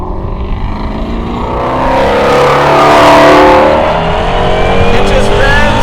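A Hennessey Mustang GT350R carrying an 850 hp HPE package on a test track, its engine loudly revving and climbing in pitch, swelling to a peak and easing off, heard from inside the car.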